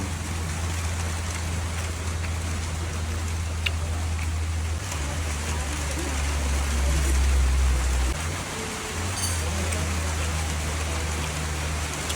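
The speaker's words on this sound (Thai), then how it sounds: "ฝนตก คุณยาย ฟังเสียงครับ" Steady, dense rain pours down continuously with a low rumbling hum underneath, no voices heard.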